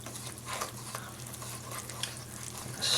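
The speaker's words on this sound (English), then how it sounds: "So we're just going to mix this well." Pizza dough mixture with yeast and fresh basil being stirred in a bowl, giving a soft, quiet, continuous swishing and scraping with no talk.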